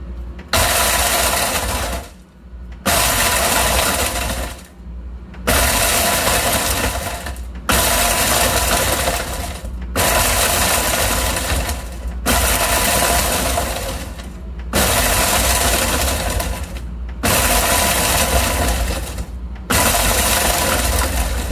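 A food processor pulses and grinds pemmican ingredients in a run of loud, roaring bursts, each a couple of seconds long and separated by brief pauses, repeating steadily throughout.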